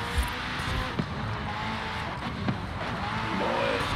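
A McLaren Senna drifting in Forza Horizon 5, with a steady engine roar and tire noise running throughout at moderate level and a few brief sharp squeals or bumps.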